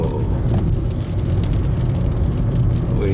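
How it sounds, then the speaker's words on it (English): Steady, loud rain falls during a storm at a beach in the Bahamas, a dense unbroken hiss with a low rumble underneath and no voices. "So that's why raining."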